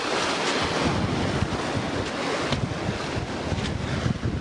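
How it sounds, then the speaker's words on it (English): Big rolling ocean waves surge and wash steadily around a sailboat crossing the Atlantic from Cape Verde toward Grenada, with constant wind buffeting the microphone and no voices. "The waves are still pretty huge, lots of big, rolling,"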